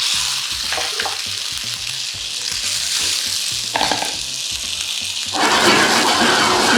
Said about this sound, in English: And in goes my burgers.